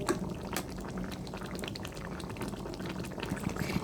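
A pumpkin and egg curry simmers in a pan with a steady, moderately quiet bubbling and sputtering that continues evenly throughout, with no one speaking.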